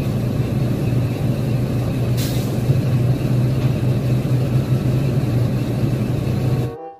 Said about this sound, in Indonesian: Mobil dam truk tambang.